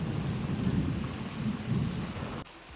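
Heavy rain pours steadily during a thunderstorm in Ratnagiri, Maharashtra. A dense, loud hiss of rainfall carries low rumbling underneath, then drops off sharply near the end.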